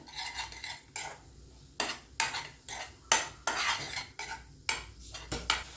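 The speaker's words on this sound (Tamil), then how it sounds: "இப்போ நம்ம துருவி வச்சுருந்த தேங்காவை இதில் ஆட் பண்ணிக்கலாம். இப்போ இதையும் சேர்த்து நல்லா மிக்ஸ் பண்ணிக்குவோம்." A spoon stirs grated coconut into melted jaggery in a pan with rhythmic, close scraping strokes roughly once a second over a faint sizzle.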